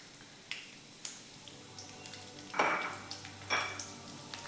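Garlic and cumin seeds tossed into a hot pan for beetroot laddu, giving a quiet crackle with a few sharp pops and one louder sizzling burst midway, no voices.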